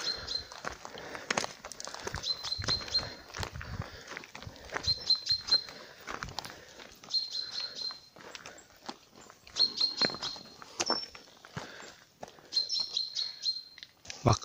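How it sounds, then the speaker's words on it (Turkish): Small birds chirp and trill in short, repeated phrases among cedar trees on a high mountain stretch of the Lycian Way, with footsteps crunching close by between the calls. "Kuş sesini duyuyor musunuz?"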